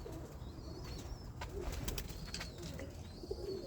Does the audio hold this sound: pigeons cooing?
yes